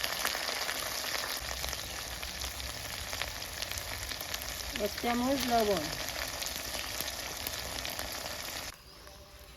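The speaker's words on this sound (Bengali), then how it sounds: "আমার মশলাটা ভাজা হয়ে গেছে।" Onion paste, ginger, cumin, turmeric and dried and green chillies frying in a pan for a prawn dish, a steady close sizzle throughout, with a brief spoken remark partway and the sound dropping off at the end.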